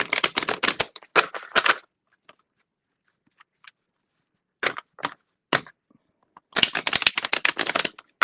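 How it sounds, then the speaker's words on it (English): Playing cards are riffle shuffled up close in bursts of rapid crisp flutters, a long run at the start, then quiet with soft taps, brief riffles in the middle and another long riffle at the end, with no talking. "As I was shuffling, it was just riffling"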